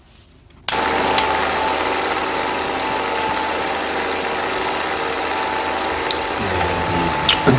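A film projector starts up abruptly and runs steadily, a continuous mechanical whirr with a ratcheting clatter and a faint steady tone, heard alone.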